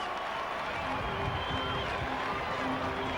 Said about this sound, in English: The crowd were wild.